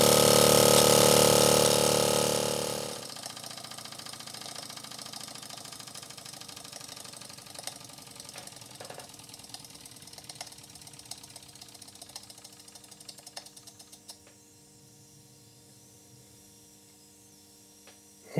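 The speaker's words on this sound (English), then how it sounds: "steam engine" A Steamco STC-04 model steam engine runs after a loud opening burst, settling into a faint, steady mechanical hum with light rhythmic ticking and knocking, close and alone without talk.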